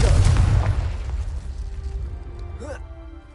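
A blasting-curse spell explodes in Hogwarts Legacy, a single heavy boom at the start that decays over about a second, followed by fainter game effects and a brief rising chime.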